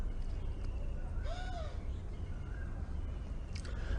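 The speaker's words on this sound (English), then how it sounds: "You hear all the birds. So many birds, huh?" Birds calling and crows cawing in Mayapur, with a few sweeping caws and chirps rising over a steady, dense wash of background noise.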